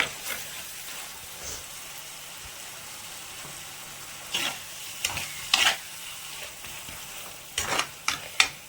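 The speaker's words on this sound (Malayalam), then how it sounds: "ഇത് നന്നായി വഴറ്റി കൊടുക്കാം." Tomatoes and tamarind sautéing in a pan for prawn curry, with a continuous bubbling sizzle and several loud spoon scrapes and clanks near the end, and no talking.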